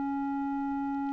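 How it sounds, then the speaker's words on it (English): A synthesizer oscillator set to a sine wave holds one pure, steady tone at constant loudness for just over a second, with nothing else heard. "Right now it's set for a sine wave"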